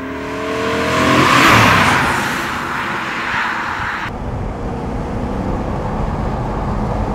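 A 2001 BMW Z8 Roadster with 32,621 km drives by and accelerates. The engine note rises steadily, then gives way to a loud, sustained rush of road and wind noise with no talking.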